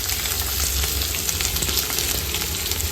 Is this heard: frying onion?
yes